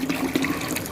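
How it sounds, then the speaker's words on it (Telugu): Dirty water from the drain of an LG front load washing machine pouring into a bucket, a brief steady gushing splash heard close up, no talking. "సెకండ్ టైం కూడా వాటర్ వస్తున్నాయి, మీరు ఇక్కడ చూడొచ్చు."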